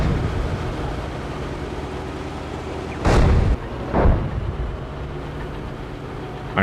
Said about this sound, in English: this one is taking like indirect fire